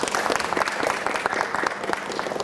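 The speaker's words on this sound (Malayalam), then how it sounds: "നമുക്ക് കൈയടിച്ച് സ്വാഗതം ചെയ്യാം." A studio audience at a comedy game show claps to welcome an actor onto the stage, a dense, steady burst of applause from many hands throughout.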